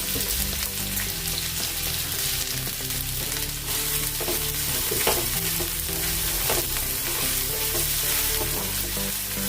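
Finely chopped onions frying in hot oil in a pan, giving a steady, bright sizzle with a continuous crackle and occasional stirring, with no voices.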